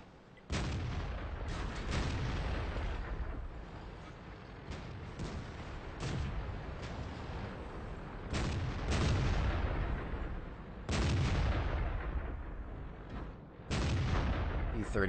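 Cannon fire from tanks in a modern tank video game: a series of loud, sharp booms, each trailing into a rumbling decay, repeating irregularly with steady battle noise between shots and no voices.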